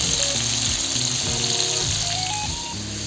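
Pieces of boal fish fry in a pan over low heat, giving a steady hiss and sizzle that runs unbroken under background music.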